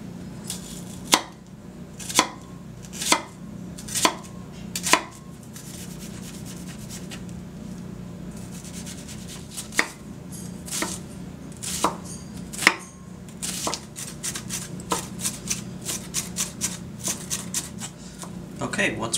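A knife chops a red onion on a cutting board in a kitchen, with steady sharp knocks in short runs that come faster toward the end, close and clear above a low background hum.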